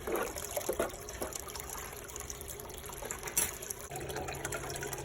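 Water swished around in a prospecting gold pan, a steady close-up sloshing and trickling that runs without pause, with no one talking.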